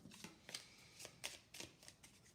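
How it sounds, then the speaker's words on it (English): Playing cards for the Daring Dustbunnies board game being shuffled by hand, a close, quiet run of rapid riffling bursts with brief pauses between them. "shuffle up the movement cards."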